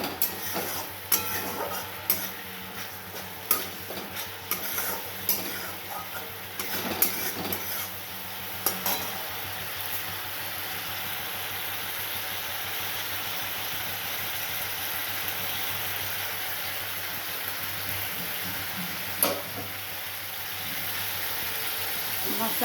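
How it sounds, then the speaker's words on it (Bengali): A spice paste with a little mustard powder fries in oil and is stirred until the oil separates, giving a steady sizzling hiss with clusters of scraping stirs early on, then a smoother continuous fry. "মশলাটা সুন্দরভাবে কষানো হয়ে গেছে, এবার তেল ছেড়ে গেছে।"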